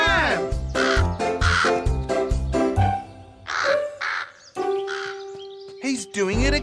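A cartoon crow caws repeatedly among apricot trees, loud harsh calls in quick succession alongside bright musical tones and effects, with character voices talking over them.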